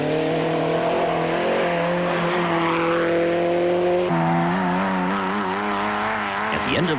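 Race cars, among them a VW, running on a wet, slippery track at the Settlers 500 in 1991, engines droning and shifting pitch as they pass, with a sudden change in engine note partway through and tire noise near the end.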